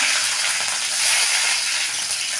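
Mustard seeds, chana dal and green and dried red chillies frying in hot oil in a pan, a loud, dense, steady sizzle heard up close and alone.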